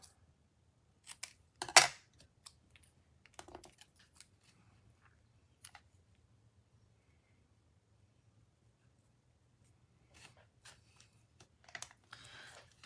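Paper or card being trimmed during a crafting session, heard as a few crisp scissor snips and clicks close by, one sharper cut among them, with long quiet gaps and scattered light handling taps.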